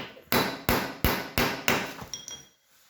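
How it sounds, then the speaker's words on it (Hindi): A drop-in anchor bolt is hammered into a drilled hole with five loud, evenly spaced metal blows about a third of a second apart, the last one lighter, with a short ringing afterward and then quiet. "तो मैं अब इसको इसके अंदर हैमर करके इसको अंदर करता हूँ।"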